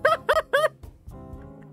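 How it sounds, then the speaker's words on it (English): A chicken in the video game Yakuza 0 lets out three loud, close, squawking clucks in quick succession, followed by a quieter stretch of faint game sounds. "I love this chicken so much."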